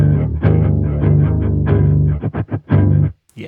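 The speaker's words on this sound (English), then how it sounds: "it's really a really aggressive, dirty bass sound without much overdrive." Electric guitar through an engaged Carbon pedal with the gain turned up, giving an aggressive, dirty bass-like tone without much overdrive; sustained chords followed by a quick series of choppy staccato hits, then a stop.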